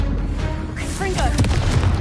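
A Confringo blasting curse explosion in the video game Hogwarts Legacy, a deep sustained rumbling boom layered with game sound effects and a brief spoken voice.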